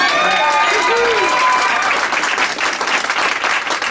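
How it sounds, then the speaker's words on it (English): An audience claps for a campaign manager, a dense, steady burst of applause with some cheers and whoops at the start, filling the room for several seconds. "let's give a round of applause to Zach."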